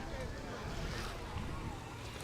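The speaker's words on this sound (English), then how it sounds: "It is kind of windy." Steady, low rumbling wind buffeting the microphone on a Key West beach, constant and fairly loud throughout with no clear pauses.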